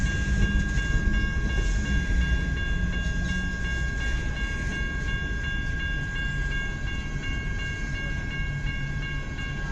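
A CN freight train runs westbound through Kimball Township, a steady rolling rumble of rail cars holding at an even level throughout, with faint high tonal ringing above it and no voices.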